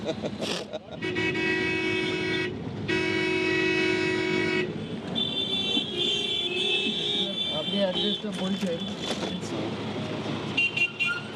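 Busy Kolkata street traffic with long, blaring horn blasts one after another, engines rumbling and other honks layered over the noisy city din.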